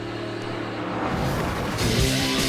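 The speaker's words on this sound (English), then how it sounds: "It's Pretty hard downshifting right there, coming on the pit road, practicing" A NASCAR stock car in Daytona 500 practice downshifts hard as it comes onto pit road, its engine note building and growling louder toward the end, fairly close and heard alone.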